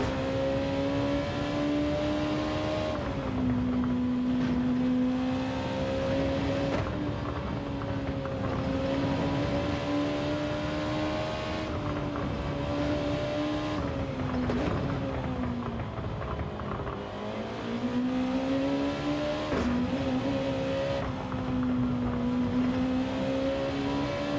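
An NSX race car engine in Gran Turismo 7 holds a loud, continuous drone whose pitch climbs and dips with throttle and gear changes, with no talking over it.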